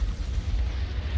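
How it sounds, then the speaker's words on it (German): Heavy cannon fire in the Star Wars: Squadrons space combat game, a loud continuous low rumbling blast with no talk over it. "Boah, die Kanone ist echt übel."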